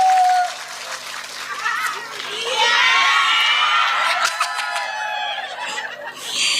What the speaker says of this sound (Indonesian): Tepuk tangan sepindah malih.